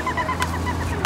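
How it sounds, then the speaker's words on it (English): A chicken clucks and honks in short repeated calls close by, with a few sharper squawks over a low steady background hum. "What is that one, a chicken?"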